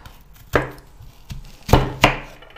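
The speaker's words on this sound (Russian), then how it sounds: "Показываю, как резать лук" A knife cuts through a halved onion on a chopping board, with four sharp, close thuds in an uneven rhythm over quiet background and no speech.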